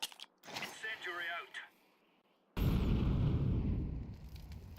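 An incendiary grenade goes off in a first-person shooter: a sudden loud whooshing burst gives way to a sustained roaring, crackling fire that slowly fades, preceded by brief game noises and a short speaking voice.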